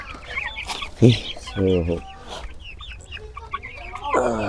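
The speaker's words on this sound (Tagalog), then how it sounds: "ito yung mga sisiyo natin, pinapakain natin sila" Chicks clucking and peeping close by while being fed, scattered short calls with a few louder squawks.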